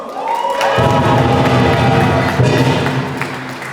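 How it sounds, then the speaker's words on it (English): Audience at a Lunar New Year celebration at Brooklyn Borough Hall bursts into cheering and applause for schoolchildren, a loud swelling roar with whoops and shouts that holds steady for a few seconds. "Can we give the kids of PS 105 a round of applause?"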